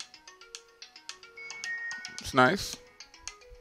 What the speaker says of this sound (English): TCL Go is that ringtone that was just playing